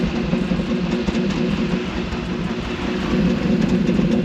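A car engine idles steadily and loudly after a Seafoam intake cleaning treatment, a continuous low rumble with no talking.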